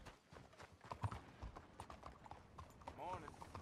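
Horse hooves clip-clop at a walking pace in the Western open-world game Red Dead Redemption 2, a soft, steady rhythm sitting low in the mix under ambient game sound.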